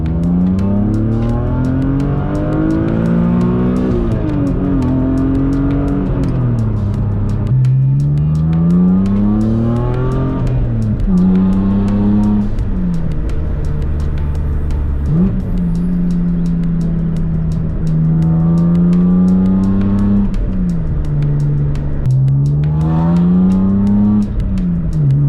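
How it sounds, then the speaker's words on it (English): A BMW E46 M3 fitted with Powerflex transmission mounts pulls hard through the gears, its engine note rising steadily then dropping at each quick upshift, loud and close throughout with no talking. "I did one pull earlier, which I think I have footage of, so I'll cut to that now."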